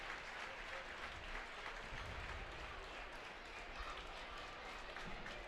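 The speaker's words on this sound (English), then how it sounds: "You can hear the Papermakers fans. Round of applause as Kimberly wins 57-38 in this regional championship game." Fans of the Kimberly Papermakers applaud and cheer in a gym after their team wins a high school girls basketball regional championship. The crowd noise is faint and distant, a steady wash of clapping with voices mixed into it.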